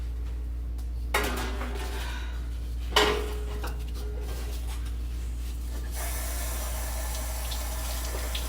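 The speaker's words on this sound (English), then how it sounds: "Wash my hands." Tap water runs steadily into a kitchen sink while hands are washed after kneading pizza dough, with two sharp clinks of dishes or utensils and a fuller rush of water near the end, no talk.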